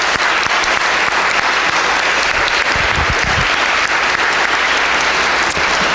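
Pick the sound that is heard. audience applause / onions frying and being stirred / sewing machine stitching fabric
audience applause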